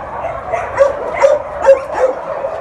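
Dogs bark close by in about four short, high yipping barks, evenly spaced over a quiet background.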